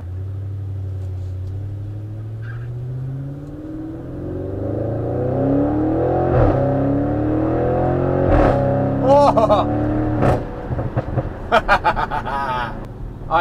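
A 730 bhp Audi RS6 engine revs while driving uphill, a steady deep rumble swelling as it accelerates, with a brief exclamation from a person in the car and sharper crackles near the end.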